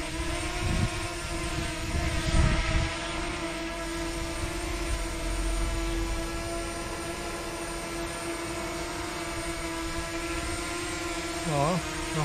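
A DJI Mavic Mini drone hovers close by, its propellers giving a steady, loud whine with a strong tonal hum, a few soft bumps and a brief pitch wobble near the end.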